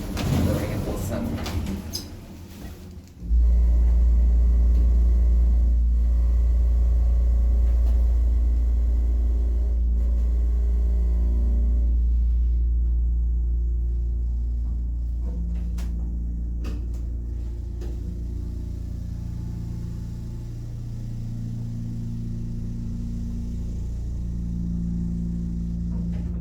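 A 1950s vintage rotary elevator, low on oil, starts up with a clunk and then runs with a deep, steady rumbling drone throughout the ride, as people talk faintly over it.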